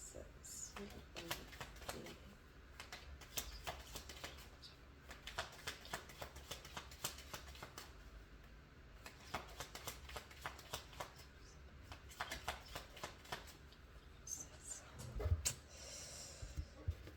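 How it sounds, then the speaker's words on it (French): Tarot cards are shuffled and drawn by hand in repeated crisp flurries of riffling and snapping, close and soft, with quiet breathing between bursts. "Ok, je vais tirer mes 5 cartes comme la dernière fois."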